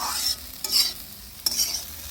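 Paratha frying in a pan, a steady soft sizzle broken by two brief scraping stirs, close and fairly quiet with no voices.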